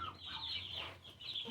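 Chickens clucking inside a coop shared with turkeys and ducks, several soft overlapping clucks and murmurs close by across a second and a half, with no talking.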